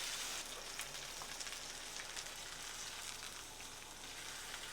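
Thick-cut steaks sear in a hot pan, giving a dense, steady sizzle with fine crackling that holds at an even level for the whole stretch, with no voices.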